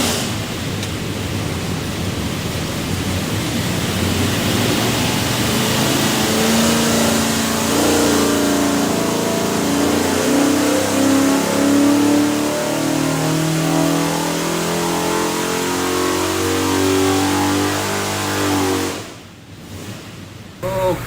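A 427 cubic inch Ford FE V8 built for a 1975 Ford F250 4x4 pulls hard on a dyno, a loud sustained roar climbing in pitch through a long run before cutting off abruptly near the end.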